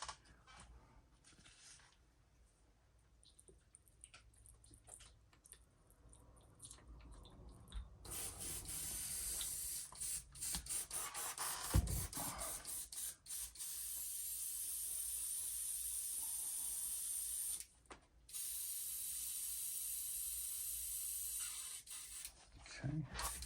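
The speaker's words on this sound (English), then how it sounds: "I'm gonna clean the gun out really fast." Paint spray gun used for custom fishing lure painting being cleaned out: after quieter handling noises, a loud sustained hiss of air and spray runs for long stretches, broken by short pauses.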